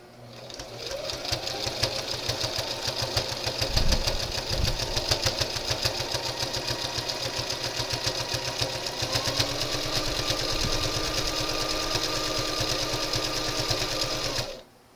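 A sewing machine stitches knit fabric into thin straps, running in one continuous, rapid mechanical chatter close by for about fourteen seconds before stopping.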